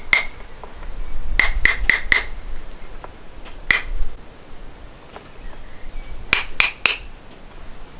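A farrier's hammer taps a horseshoe nail while shoeing a horse, giving sharp metallic clinks in quick clusters of three or four light blows separated by short gaps.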